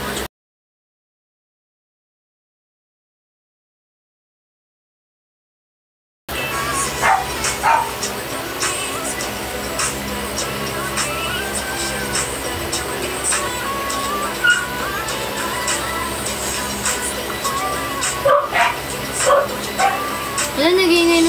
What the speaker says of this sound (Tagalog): Wala, nag-iingay na naman yung dogs.